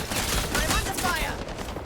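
Sustained gunfire in the video game Highguard, a dense rattling volley lasting throughout, loud and close, with game voice and effects layered over it.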